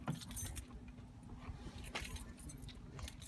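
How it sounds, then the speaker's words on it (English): Car keys jangle briefly with light metallic rattles, faint over low background noise in a car customizing shop setting. "All right, here's the keys."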